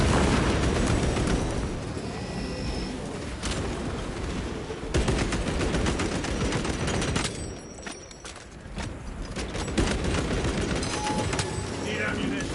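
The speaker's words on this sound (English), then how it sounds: "Deploying frag grenade!" Frag grenade blasts and heavy gunfire in a Warhammer 40,000 Space Marine 2 battle on PS5: dense, loud, continuous bursts of booms and shots with broadband crackle, barely easing partway through, and voices speaking over the din.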